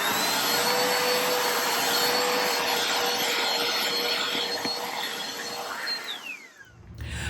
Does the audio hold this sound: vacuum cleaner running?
yes